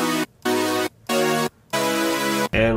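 Synthesizer chords play as four loud, bright sustained stabs separated by short gaps of silence, the last one cut short, with no speech.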